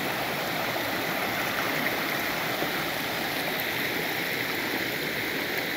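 Steady roar of a Tahitian waterfall and stream, loud, close and continuous, with no voices.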